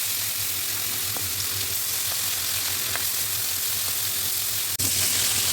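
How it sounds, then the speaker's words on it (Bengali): Pieces of aar fish rubbed with salt and turmeric sizzle in oil in a wok, a steady hissing fry throughout with a few faint pops and a sharp clack near the end. "প্রথমে কড়াই তেল দিয়ে পরিমাণ মতো নুন হলুদ দিয়ে মাখিয়ে রাখা মাছগুলোকে ভেজে নিতে হবে।"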